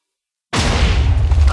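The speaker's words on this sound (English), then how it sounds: "And you finally get fireworks" Fireworks burst in a block-building video game puzzle after a sudden cut from silence, giving a loud, sustained boom with crackling rumble that fills the rest of the moment.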